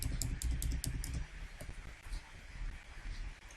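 Rapid typing on a computer keyboard, a cluster of sharp key clicks early, then sparser, softer taps, close and quiet with no talk.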